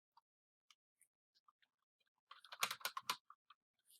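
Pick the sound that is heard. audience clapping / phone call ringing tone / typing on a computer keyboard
typing on a computer keyboard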